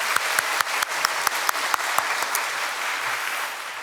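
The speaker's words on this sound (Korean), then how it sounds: "우리 박수로 격려하겠습니다." Congregation at a Sunday church service applauds in a dense, steady wash of clapping, with a few sharp, close individual claps standing out near the start before it evens out.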